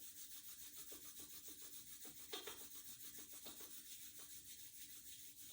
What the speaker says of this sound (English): Bring your hands together at the center chest, rubbing them firmly together.